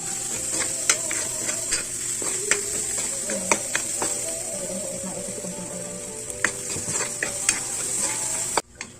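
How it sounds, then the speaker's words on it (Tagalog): Boiled crab being sautéed with plenty of garlic for buttered garlic crab: a steady close sizzle runs throughout, with repeated scrapes and knocks of stirring in the pan. "Pwede na natin siyang igisa sa bawang."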